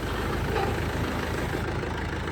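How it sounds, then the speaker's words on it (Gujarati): A heavy tractor diesel engine rumbles steadily at low revs while reversing, a continuous throaty drone with no pauses or voices. "આ જે ટ્રેક્ટરવાળા ભાઈ છે આ ટ્રેક્ટરને રિવર્સમાં ચડાવી રહ્યા છે"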